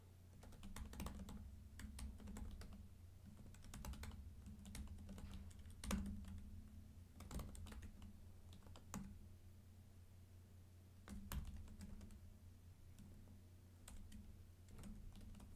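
Code being typed on a computer keyboard: soft, close key clicks in irregular bursts over a low steady hum, with occasional louder keystrokes and no speech.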